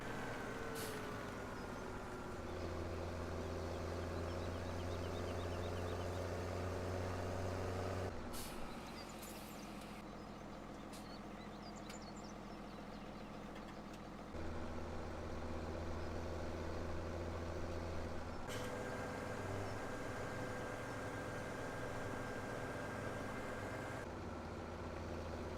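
A tractor hauling a tipper in Farming Simulator 17 drones steadily throughout, its low engine note shifting level in several distinct segments with abrupt cuts between them, and no voices.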